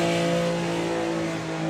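A drag racing car engine at Santa Pod Raceway revs hard and steadily, a loud, harsh, sustained growl with strong tonal drone throughout, close and alone.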